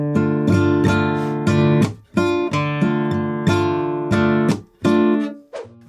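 Spanish guitar played at a brisk tempo in a strumming pattern of ringing chords with down and up strokes, percussive muted strikes and brief pauses, loud and close.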